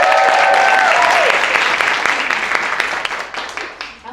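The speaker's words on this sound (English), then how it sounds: "Let's give them a round of applause." Audience members at a drama therapy anniversary celebration clap for the production team, a loud burst of many hands that thins and fades over a few seconds, with a short tonal voice at the very start.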